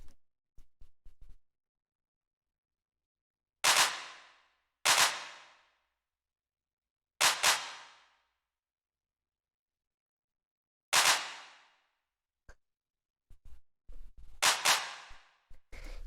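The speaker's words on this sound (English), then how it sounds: "just nice hard-hitting techno clap" Sharp, punchy acid techno claps hit one at a time with gaps of silence between, each loud and bright with a quick fading tail.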